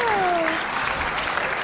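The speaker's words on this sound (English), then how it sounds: "Let's give her a wonderful applause" An audience applauds a child, a brief steady burst of clapping with a voice briefly audible over it.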